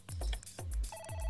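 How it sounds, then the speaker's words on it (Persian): A telephone rings inside the Human Simulator video game, with repeated bell-like tones over low rhythmic thumps, fairly loud and close, with no talking. "تلفن رو جواب بده."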